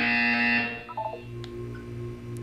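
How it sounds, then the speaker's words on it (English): A buzzer tone from the video game Portal 2 sounds at moderate level, starting as a sustained tonal blare and then breaking into a few short stepped beeps before settling into a low hum with faint clicks. "You'll hear a buzzer."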